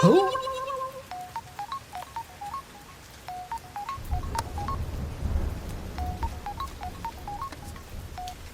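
Telephone keypad tones beep in quick clusters of short dialing presses, with a steady rumble like rain or distant thunder underneath from the midpoint on.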